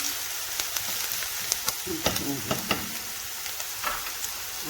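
Onions frying in olive oil for a chicken liver dish, with a steady close sizzle broken by sharp stirring clicks and scrapes of a utensil against the pan.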